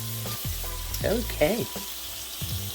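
Steak for cheesesteak hoagies frying in a hot pan, a steady close sizzle running through the whole moment while a voice briefly speaks over it.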